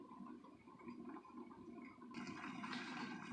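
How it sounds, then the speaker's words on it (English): Canned red beans simmer at a rolling boil in a pot, bubbling and gurgling softly and steadily at low volume, with the burbling growing a little busier toward the end. "it came to a full rolling boil"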